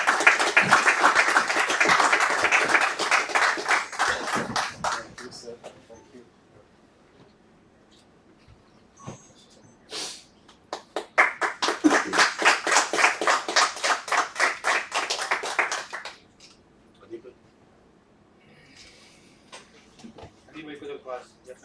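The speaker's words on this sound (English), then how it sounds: "come on guys give him a huge round of applause" Audience applause at a live trading session event: two bursts of rhythmic clapping, the first fading after about five seconds and the second around 10–16 seconds, with someone saying thanks in between.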